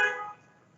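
A car horn honks once with a bright, tonal blare that fades out within a fraction of a second, leaving faint low background noise.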